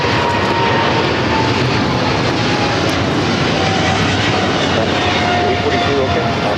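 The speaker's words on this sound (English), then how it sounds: "the Cargo King 222, taking off to Shanghai on the 777 freighter" A China Cargo Airlines Boeing 777 freighter takes off from LAX, its engines a loud, steady broadband roar that holds throughout with a faint whine above it, and voices talking beneath.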